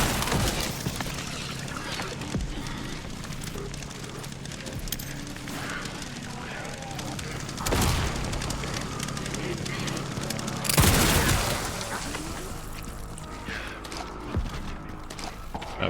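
Grenade blasts in Resident Evil Requiem, several loud broadband booms standing out at intervals over a dense, constant backdrop of game combat noise and gunfire.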